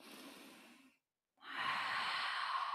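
Two audible breaths during a yin yang yoga session: a softer breath fading out, a short silence, then a strong, close, sustained airy inhale or sigh, alone without talk.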